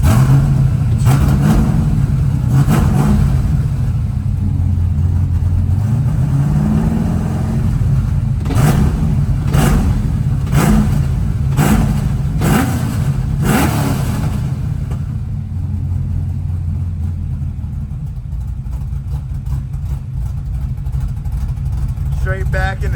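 A Fox body car prepped for drifting revs its engine in several sharp, loud bursts, then drops back to a steady rumbling idle, heard up close.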